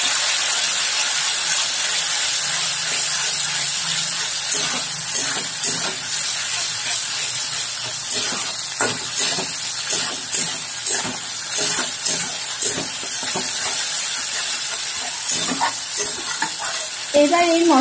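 Ground spice paste with chili powder frying in a pan for matar paneer, a steady bright sizzle over medium heat with repeated scraping strokes of a spoon stirring through the mixture, close and continuous.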